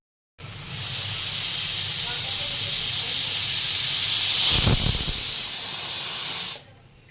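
A pressure cooker cooking rajma kidney beans vents a single long, loud steam whistle, a continuous hiss that swells slightly midway and lasts about six seconds before cutting off abruptly.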